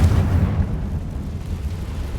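A Confringo explosive spell blast in the Hogwarts Legacy video game, a loud low boom at the start that rumbles and fades into a sustained roar, with no talking.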